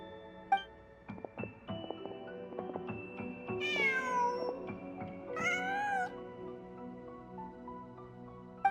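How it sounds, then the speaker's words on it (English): A cat in the video game Genshin Impact gives two drawn-out meows over soft game music and scattered clicks, each cry rising and falling in pitch, clear and close. "Huh. Just a cat."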